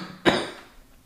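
A single short cough, sharp and close, followed by a brief fading rasp.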